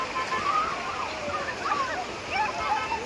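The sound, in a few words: strong river water flow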